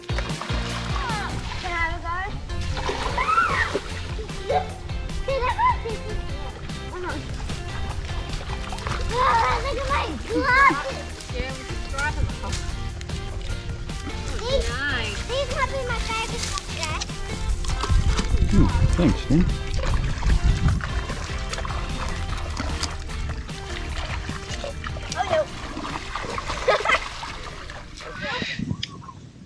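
Children shout and chatter while water splashes and sloshes around them as they drop from a rope swing into a shallow river at Manning Gorge, repeated splashes over continuous outdoor noise; a brief spoken remark comes near the end.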